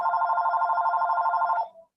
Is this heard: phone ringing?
yes